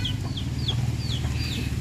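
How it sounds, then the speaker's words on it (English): Baby chickens peeping, a series of short high chirps repeating every few tenths of a second over a low steady outdoor rumble, fairly close, with no talk. "A baby chicken. That is a chicken."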